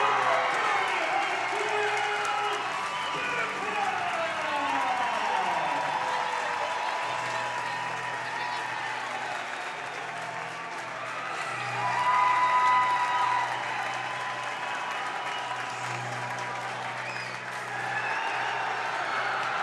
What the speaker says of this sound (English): Round of applause for NorthStar for coming here and competing at Kearney High.